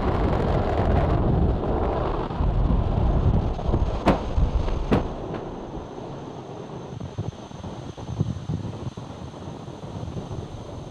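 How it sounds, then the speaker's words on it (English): SpaceX Falcon 9 lifting off from Vandenberg Space Force Base, California: a broad, rumbling roar heard from afar, buffeted by wind, with two sharp cracks midway before the noise slowly thins. "Falcon 9 has successfully lifted off from Slick 4 East at Vandenberg Space Force Base in California"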